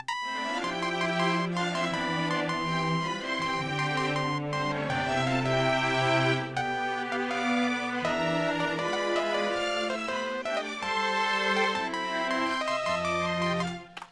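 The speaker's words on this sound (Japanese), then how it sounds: "一番最初になるコードピアノメロで聞いてみます。" Piano chords with a melody line played back from a sequenced arrangement on a computer music workstation, steady and continuous with sustained low chords beneath a moving upper line, no voices.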